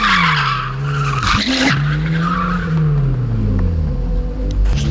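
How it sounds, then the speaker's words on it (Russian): A V10 BMW drift car's engine revs hard while tires skid and squeal loudly across pavement at a drift show, the whine rising and falling as the car slides close by. "сегодня у нас будет дрифт-шоу"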